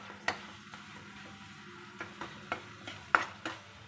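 Potato pieces fry in hot oil with spices for a home-cooked egg curry, a soft steady sizzle broken by several sharp stirring scrapes and clicks against the pan, close and without talk.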